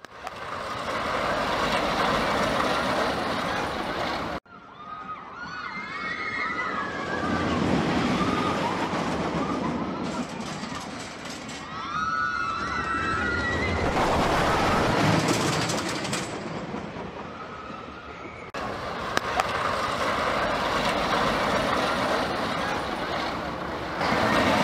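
Bone Shaker roller coaster at a Jurassic Park theme park, built on a rocky mountain wall above a deep pit: a steady loud rumble and rattle of cars on track, with a quieter stretch and some squealing tones in the middle, then the full roar returns.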